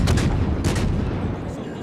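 Naval guns firing in World of Warships on an Italian cruiser, the Duca Degli Abruzzi, heavy booming shots in quick succession over a rumbling battle background, loud and close.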